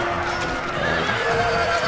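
Horses neigh in a battle of the strategy game Empire: Total War, with whinnies rising over a dense, steady wash of battlefield noise and hoofbeats.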